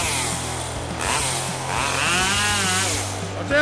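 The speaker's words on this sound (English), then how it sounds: "The chainsaw is an essential tool in the logging industry, offering flexibility and power." A chainsaw cuts through large-diameter wood in a logging setting, its engine whining loudly and steadily, rising and falling with the load over several seconds while a voice talks over it.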